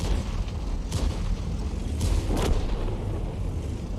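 Artillery shells from a GW Panther land in a World of Tanks battle: a few dull booms thud over a steady rumbling background, spaced a second or so apart, with no speech.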